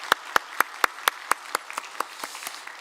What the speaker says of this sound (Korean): 우리 귀한 수요 찬양대 내렸쓰는데 박수로 한번 격려하겠습니다.